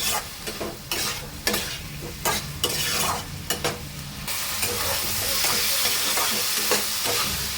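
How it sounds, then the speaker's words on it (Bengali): Snails (gheri) and tomatoes stirred and sautéed in a pan for a spicy Bengali snail-and-potato curry, a steady frying sizzle broken by repeated scraping stir strokes, close and fairly loud, with no talk. "এবার দিয়ে দেবো গেরিগুলো। ভালো করে এটা দিয়ে কষাবো।"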